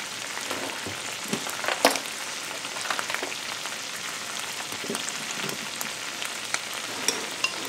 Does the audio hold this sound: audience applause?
no